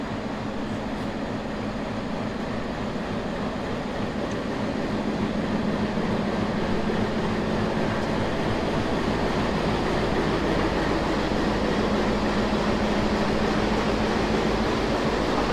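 A 65 series locomotive, number 6515, heading the Nakshikantha commuter passenger train between Khulna and Dhaka, gives out a loud, steady rumbling drone that swells slightly and keeps up without a break.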